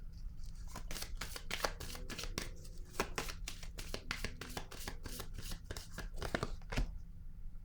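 Tarot cards being shuffled by hand and another card drawn, a rapid run of soft flicking, riffling snaps at close range, faint and continuous for several seconds.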